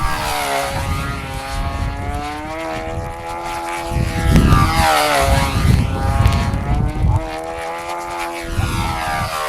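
Model airplane propeller engines at a French FFAM national competition, likely team racing: loud, continuous high-pitched buzzing that rises and falls as the planes pass, with no voices.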